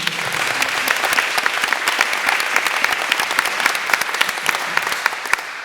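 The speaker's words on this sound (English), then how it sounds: "So a round of applause for them." Audience at a Redmond town hall applauds two state representatives, a steady dense wash of many hands clapping close by, sustained and even throughout without speech over it.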